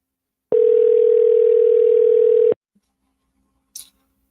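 A steady telephone dialer tone plays during an outbound call, sounding as one loud unbroken tone of about two seconds that cuts off abruptly, followed by near silence and a brief faint click.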